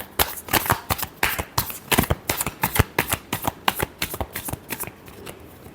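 Tarot cards being shuffled close up in a steady, crisp run of rapid riffling snaps and flutters, continuing without pause and with no voice over it.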